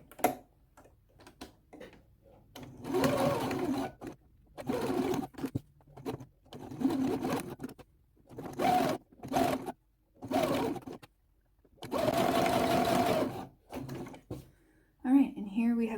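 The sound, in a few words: sewing machine stitching a skirt zipper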